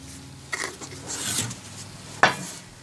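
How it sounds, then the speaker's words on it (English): A hand reamer works through the hub of a small metal flywheel, giving a short gritty metallic scraping followed by a single sharp clank, close and fairly quiet, with no talk. "Now in reaming these"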